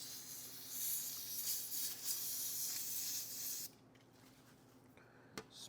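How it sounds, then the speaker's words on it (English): A brake cleaner aerosol can sprays in a loud, steady hiss for several seconds while cleaning a lawn mower part over a trash can, then cuts off, followed by quieter background and one brief short spurt. "we'll go spray it out with some brake cleaner"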